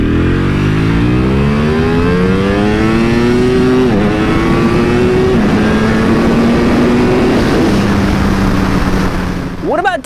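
A Ducati V4R superbike accelerates hard in a straight line, its loud engine note climbing in pitch through several quick gear changes before the sound cuts out abruptly at the end.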